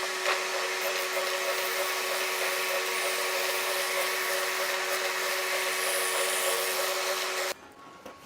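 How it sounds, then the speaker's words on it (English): A spindle sander runs steadily while shaping a guitar pickguard during an archtop restoration, a loud continuous whirring grind that holds constant for several seconds before cutting off abruptly near the end. "Now I'll use this spindle sander to refine the outline of the pickguard."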